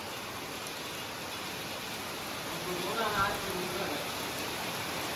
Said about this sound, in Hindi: इतनी भयंकर बारिश हो रही है ना